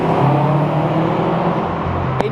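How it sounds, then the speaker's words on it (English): A stage 1 tuned turbocharged car of about 340 horsepower in sport sharp mode, its engine droning loud and steady up close with a faint turbo whir, no talk. "but the turbo sounds very, very nice."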